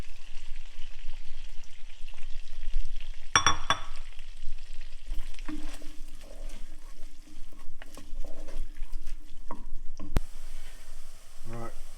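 Chopped onions sizzle and fry in a hot pan with creamy mushroom sauce ingredients, a steady crackling hiss with scattered pops and the scrape of stirring, moderately loud and close.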